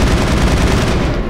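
Rapid automatic gunfire in the video game Mass Effect, a loud dense burst of shots filling the whole moment with no pauses.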